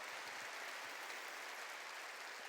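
A church congregation claps together during a sermon at a Korean worship service, a dense, steady wash of hands that stays faint and distant throughout, with no voices standing out.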